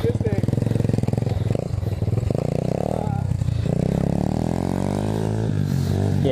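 An Apollo 125cc dirt bike engine revs hard as the clutch is dropped, a loud, close, continuous buzzing roar rising and falling in pitch, with people talking over it.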